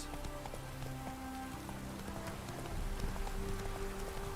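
Horse hooves pounding along at a gallop through rain in The Witcher 3 game, a steady clip-clop rhythm under a constant patter of rain and background game music, moderately loud with no talking.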